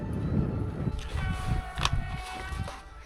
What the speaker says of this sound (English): So our train is coming right now.